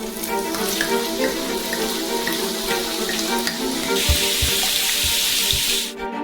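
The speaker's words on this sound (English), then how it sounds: "Pour it into the frying pan." Champagne is poured into a frying pan of French fries, making a steady splashing pour with a bright hiss and sizzle that swells partway through, followed by a few soft knocks.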